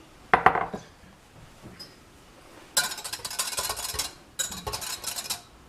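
A sodium alginate mix and colored simple syrup being stirred together in a bowl: a few sharp utensil clinks, then two longer stretches of brisk, scraping whisking, close and fairly loud.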